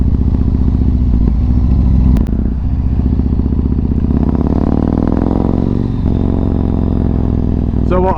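Yamaha MT-01 motorcycle ridden on the road, its engine droning steadily and loudly throughout, with a slight rise and fall in pitch as the bike changes speed and brief clattering knocks.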